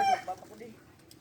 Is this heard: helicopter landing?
no